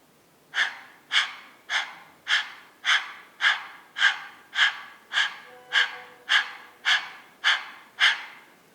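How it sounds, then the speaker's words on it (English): A person does dog breathing in a yoga practice, panting with the tongue out in fourteen sharp, evenly spaced breaths roughly every half second, close and loud with nothing else heard. "dog breathing is a very good practice for bad breath"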